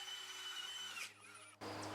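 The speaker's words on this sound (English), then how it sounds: "This is a hammer drill, which I recommend. It's a little easier to drill into the soil." A petrol-powered hammer drill with an auger boring into soil, running loud and steady with a sustained high motor whine that drops briefly as the load changes, then picks back up.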